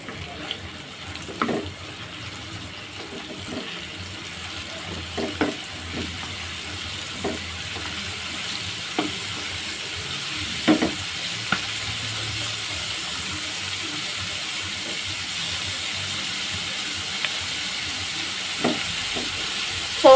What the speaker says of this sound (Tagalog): dito rin natin ipiprito yung tentacles na hiniwa natin at saka yung palikpik ng puset